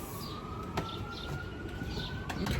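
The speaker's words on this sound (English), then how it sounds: "can you hear the ambulance?" A faint, distant siren holds a thin steady tone beneath outdoor background noise, with occasional brief knocks and chirps.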